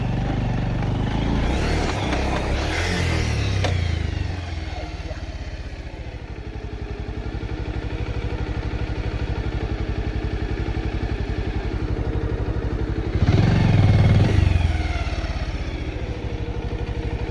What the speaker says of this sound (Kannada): ಗಾಡಿ ಫಸ್ಟ್ ಗೇರಲ್ಲಿ ಇದೆಲ್ಲ. ಡಸ್ಟ್ ಇರೋದ್ರಿಂದ ಟೈರ್ ಗ್ರಿಪ್ ಆಗ್ತಾ ಇಲ್ಲ.